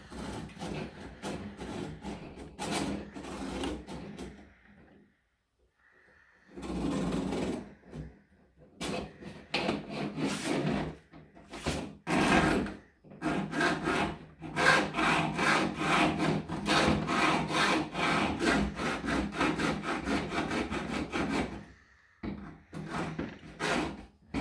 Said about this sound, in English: you're just going to slowly cut through the armor, and it's just aluminum, so it cuts fairly fast.